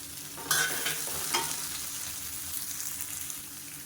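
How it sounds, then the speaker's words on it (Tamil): Garlic, ginger and tomato sauté in a hot pan, with a steady sizzle and two sharp scraping stirs near the start. "ஒரு மூணு பல் பூண்டு ஒரு சின்ன துண்டு இஞ்சி இதையும் நல்லா பச்சை வாசனை போகிற அளவுக்கு வதக்கிக்கலாம்"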